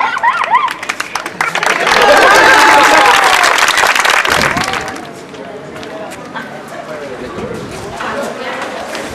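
A theatre audience at an arts festival performance breaks into loud applause that builds and then thins out into scattered claps, with voices and performers' sounds mixed over the crowd.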